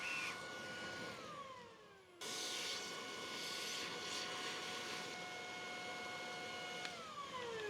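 Vacuum cleaner running while cleaning dust from an old IBM PC, a steady whirring drone with pitch glides as the motor spins up and down, fairly close and without talk.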